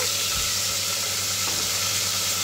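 Chopped tomato fries in hot oil with whole garam masala and hing, giving a steady, close, continuous sizzle and hiss with faint stirring, and no voices.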